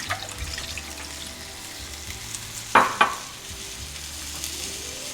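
Two cups of beef broth pour into a hot pan for chilli mud crab, a low steady sizzle broken by a couple of sharp metallic clanks partway through, with no one talking.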